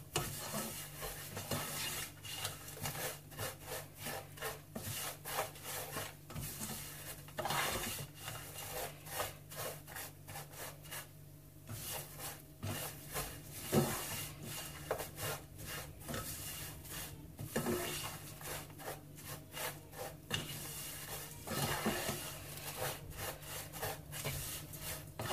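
Vermicelli and coconut frying in ghee are stirred with quick, repeated scraping strokes in an uneven rhythm, soft and close, with a faint low hum underneath.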